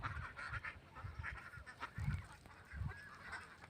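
A flock of domestic ducks near water, including their leader, gives faint repeated nasal quacks and honks at a distance, irregular calls rising and falling against a quiet outdoor background.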